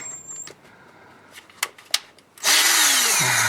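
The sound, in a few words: power drill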